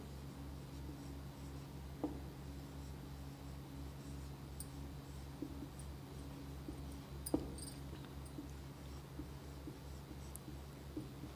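Faint scratching of writing on a board during a primary-school mathematics lesson, soft and intermittent over a steady low electrical hum, with occasional small taps.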